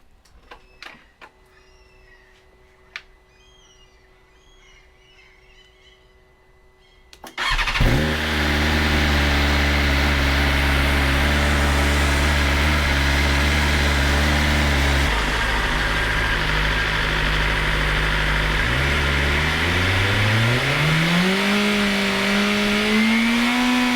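A BMW M 1000R motorcycle with an SC Project carbon exhaust barks to life after a few quiet clicks, idles loudly and steadily nearby, then revs up in a rising pull.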